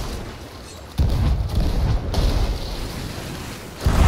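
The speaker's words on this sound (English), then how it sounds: "Who's shooting cannons? That was me." Ship cannons firing in a pirate video game, a couple of deep booming blasts with rumbling tails, one about a second in and another near the end, moderately loud over low ambient noise.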